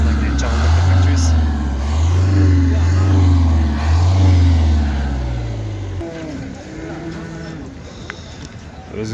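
Vehicles arriving at a livestock market in Karakol, a car or truck engine droning and revving nearby before fading, with people talking and general outdoor market noise around it.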